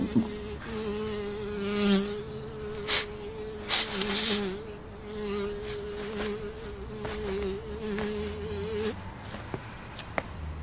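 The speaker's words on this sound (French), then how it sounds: "Une mouche." A fly buzzes close by in a steady drone, its pitch wavering slightly, with a few brief clicks and rustles around it.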